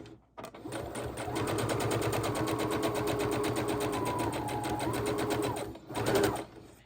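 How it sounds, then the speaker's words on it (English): A sewing machine runs steadily as quilt block scraps are chain-stitched, a fast even motor hum with rapid needle clatter lasting several seconds before a brief pause and a short final burst. "I am taking them across in a sewing chain"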